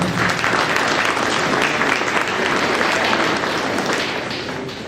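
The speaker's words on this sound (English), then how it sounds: "But let's give these kids a round of applause." Loud, dense audience applause for the young exhibitors at a Holstein dairy cattle show, a continuous roar of many hands that tapers off slightly toward the end.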